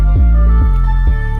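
Tito's vodka poured from the bottle in three gurgling glugs at an even pace, close and clear, with no talk.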